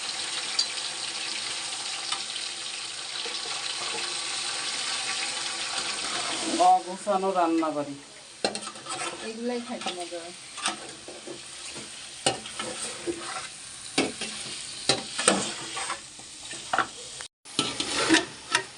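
Onion, cumin, whole garam masala and bay leaves fry in hot oil with a steady sizzle and occasional stirring scrapes, while a person talks over the cooking nearby.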